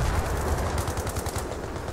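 Rapid bursts of automatic gunfire rattle out, sharp and close, forming a continuous fast stream of shots in the video game Battlefield 3.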